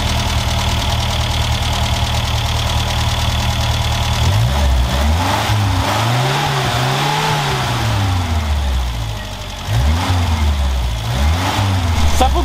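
A Renault 4L prototype engine, just repaired at the carburettor air intake, fires up and revs repeatedly in rising and falling sweeps over a steady idle, loud and close, with no talk.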